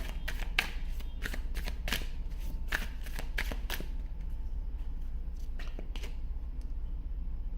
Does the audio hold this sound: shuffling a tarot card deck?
yes